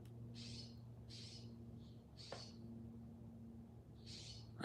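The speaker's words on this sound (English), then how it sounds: "That bird is talking all kinds of shit." Bird calling outdoors, five short raspy calls at roughly regular intervals, moderately distant, over a steady low background hum.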